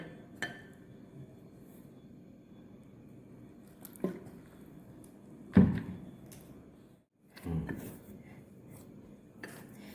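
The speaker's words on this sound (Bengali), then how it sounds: "এবার অল্প অল্প করে জল দিয়ে আমি মেখে নেব যেরকম লুচি পরোটার ডো তৈরি করা হয়" Flour dough is worked by hand with small additions of water, like dough for luchi or paratha: sparse, soft squelches and dull thumps, quiet and close, with long gaps between them and no talking.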